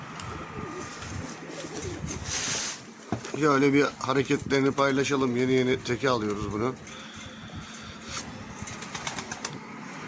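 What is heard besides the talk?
pigeon released, cooing and flapping wings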